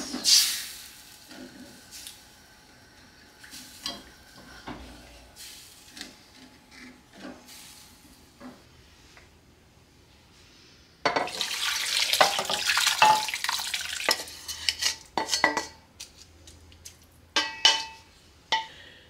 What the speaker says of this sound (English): We're going to use that to deglaze the pan. Get all that flavor, all the burnt bits.